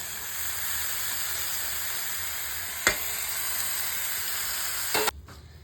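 Bottle gourd pieces fry with cumin, turmeric and salt in a pan, giving a steady close sizzle with two sharp clinks of stirring before the sound abruptly stops.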